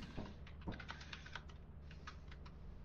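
Rapid keyboard typing sounds in a Lethal Company mod pack, a quiet burst of clustered key clicks rattling in quick succession over a low steady background hum.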